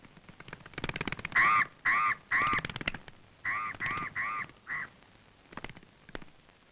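Several crows cawing in a rough, repeated series of loud calls, then a pause and another run of caws, with fainter scattered calls trailing off at the end.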